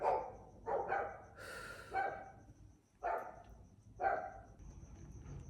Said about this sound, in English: Guys, I'm so sorry about these dogs.